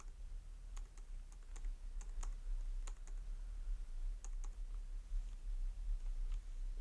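Keys clatter on a computer keyboard during data entry in Tally Prime accounting software, a steady run of light clicks close by, alone without talk.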